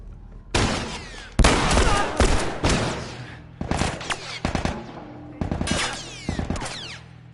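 Loud, dense bursts of gunfire from The Last of Us video game ring out in several volleys of rapid shots, alone without talk.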